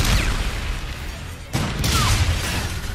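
A launcher explosion in Call of Duty: Infinite Warfare, fired from a tube loaded with three rounds, bursts loudly amid constant gunfire and game noise, with a second sharp blast about halfway through.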